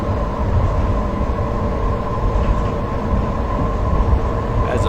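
A train runs in Train Simulator, a loud, steady rolling rumble with a sustained mechanical hum and no breaks.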